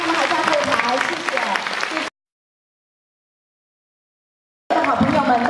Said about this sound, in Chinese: 各位要借着你的 双手给他们一个热烈掌声